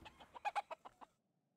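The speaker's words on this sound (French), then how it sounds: "ce qu'on peut peut-être faire, c'est nourrir la poule" A hen in the Book of Hours video game gives a quick run of about seven soft clucks that rise, then fade and stop, with no talking.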